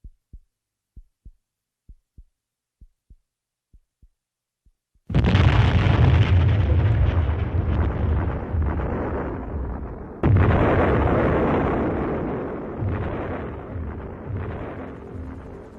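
A series of soft regular thumps gives way to a sudden, massive mine explosion at the Battle of the Somme, 1916, with a long roaring rumble, then a second blast rolling on and fading.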